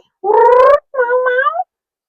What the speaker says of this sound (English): Here's Lilo Kitty, Mama Kitty.